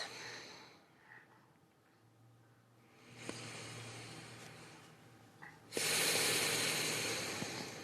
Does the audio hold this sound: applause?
no